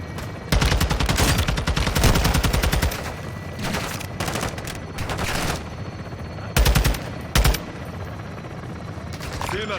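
Heavy automatic gunfire rattles in long bursts through a Call of Duty Modern Warfare II campaign battle, loud and close, with a helicopter droning underneath and short pauses between volleys.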